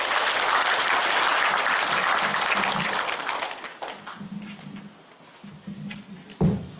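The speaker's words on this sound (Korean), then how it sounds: "여러분 큰 박수로 맞이해 주시기 바랍니다." A crowd at a Naju city welfare council event applauds steadily for several seconds, then the clapping thins and fades as the mayor begins speaking.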